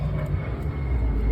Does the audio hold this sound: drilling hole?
no